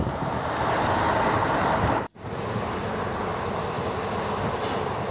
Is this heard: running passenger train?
yes